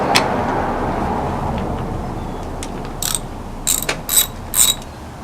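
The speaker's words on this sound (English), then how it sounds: "Now you can take this bolt off." Ratchet clicks on a bolt in the engine bay of a Jeep Cherokee KL 4-cylinder, coming in short bursts of quick ratcheting near the end after a quiet stretch of faint background hum.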